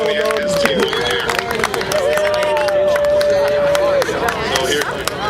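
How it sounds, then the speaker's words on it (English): Audience applause for a winning contest team at an event, dense clapping and crowd hubbub filling the room, with whistles or shouted voices and tonal cheers riding over the steady clatter. "So one last round of applause, please, for team."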